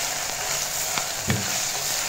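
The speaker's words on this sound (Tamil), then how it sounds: "இப்போ பார்த்தீங்கன்னா காய் நல்லா வதங்கி வந்துடுச்சு" Large-cut vegetables sauté in an oily pan for a white kurma, giving a steady close sizzle with a few faint stirring knocks, and no voices.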